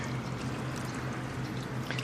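Water pours onto garden plants in a herb pot in one steady, close splashing stream that runs without a break.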